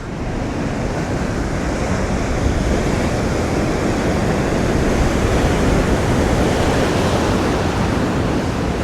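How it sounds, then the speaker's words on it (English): Choppy sea waves roll onto Skegness beach as a continuous loud surf roar mixed with wind noise on the microphone, steady for the whole stretch, with no talking. "Look at those waves."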